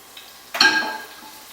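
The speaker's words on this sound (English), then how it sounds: "So I'm going to add a little bit of the broth." Broth poured into a pan of sautéing garlic for a beet salad with greens, a sudden hissing sizzle with a metallic clink that fades over about a second, after a small tap.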